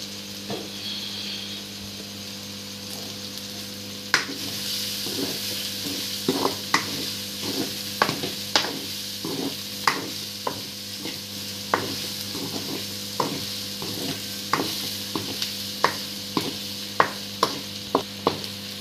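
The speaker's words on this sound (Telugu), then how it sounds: "ఫ్లేమ్ మీడియంలో ఉంచుకొని 2-3 మినిట్స్ అలా తిప్పుకున్నాక ఆ మసాలా అది, ఆ గ్రేవీ ఇది మొత్తం అంతా ఆ పన్నీర్ ముక్కలకు పడుతుంది" Paneer pieces being stirred through masala gravy in a pan over a medium flame, with a steady low sizzle beneath repeated sharp spoon scrapes and taps that quicken and grow regular toward the end; no talking.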